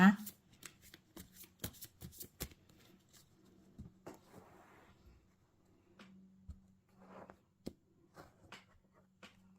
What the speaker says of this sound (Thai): ขอเป็นตัวแทนสับไพ่ตัดไพ่